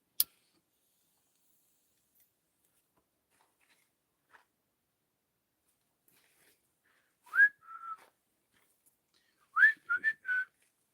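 A person gives a few short whistles to call a dog outdoors, with two separate whistled bursts standing out against near silence and a couple of faint clicks.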